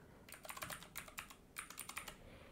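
Fingers type a Discord server code on a computer keyboard, a quick uneven run of soft key clicks in two short bursts, faint and close.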